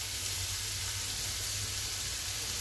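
Rice tipped into a pan of frying chicken sizzles steadily, a close, continuous hiss with a low rumble beneath and no voices.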